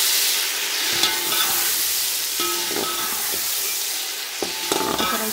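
Tomatoes fry in a hot pan for a spicy chicken kofta biryani, a loud constant sizzle cut by several distinct scrapes and knocks of a stirring spoon, close up, with no voices.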